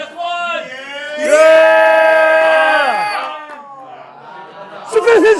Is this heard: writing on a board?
no